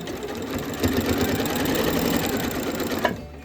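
A sewing machine runs steadily, stitching a scrappy lap quilt with a lengthened stitch, its continuous motor hum and needle rhythm close and alone before a brief pause near the end.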